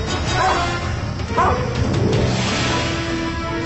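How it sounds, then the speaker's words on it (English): A released police dog barks and yelps during a chase of a fleeing suspect, a few barks mixed into noisy, rushing outdoor sound at moderate loudness. "releases the canine"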